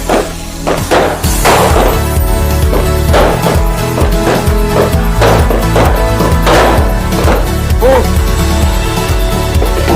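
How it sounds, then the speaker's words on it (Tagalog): New Year fireworks going off nearby, a dense run of loud booming bursts and cracks at irregular intervals, layered over a constant rumble of distant explosions. "Ganda raw ng fireworks."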